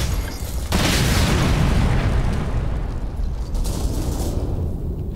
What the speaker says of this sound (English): someone threw a grenade?